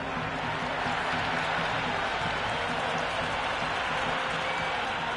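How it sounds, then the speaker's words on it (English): Stadium crowd in the cricket video game Cricket 26, an IPL match between LSG and DC, cheering as a steady, dense roar that fills the whole stretch without a break. "There's a buzz, a real buzz coming from the stands."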